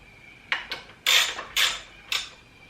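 A bolt being tightened on a WR250R motorcycle gives five short, sharp metallic ratcheting bursts at an uneven pace, close and clear over a quiet background.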